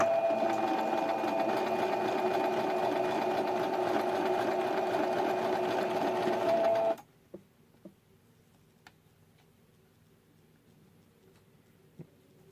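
A sewing machine stitches the seam of a fur sleeve, running steadily and closely for about seven seconds before stopping; a few faint clicks and handling taps follow in near quiet.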